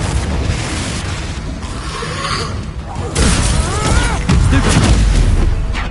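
Spell blasts and magical explosions crack and boom through dense, continuous game combat in Hogwarts Legacy, with a brighter burst of shattering energy near the midpoint and a voice shouting incantations over the clamor.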